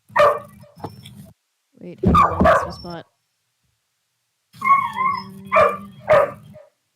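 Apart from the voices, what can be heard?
dog barking loudly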